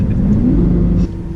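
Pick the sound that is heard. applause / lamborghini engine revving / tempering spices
lamborghini engine revving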